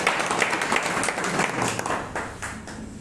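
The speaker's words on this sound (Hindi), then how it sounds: "जोरदार ताली हो जाए सर।" Audience applause at a gathering, steady dense clapping from a crowd filling the whole stretch, fading slightly toward the end.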